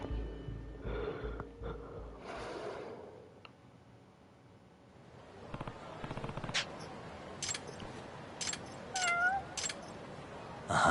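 A cat meowing in the Judgment video game, a few short mews rising over quiet ambient game sounds and clicks, fairly faint and separated by pauses.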